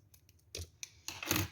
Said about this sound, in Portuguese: Agora, a gente vai cortar esse fio.